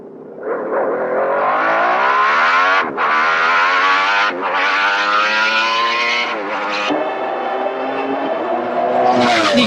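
Formula 1 race cars from 1991 on the final lap of the Japanese Grand Prix scream past, loud and close, high-pitched engines rising and dropping with gear changes in a continuous wail.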